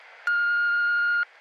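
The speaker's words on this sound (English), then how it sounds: "so leave a message after the beep" An answering machine beep: one steady, clean electronic tone lasting about a second, sounding alone and clearly over faint background hiss.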